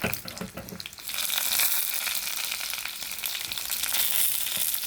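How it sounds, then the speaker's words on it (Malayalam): Mustard seeds fry in hot oil for a Kerala avial, a close hissing sizzle that swells after the first second and carries on densely, with faint popping crackles and no voices. "എണ്ണ ചൂടായി കടുകിടുവാണ്."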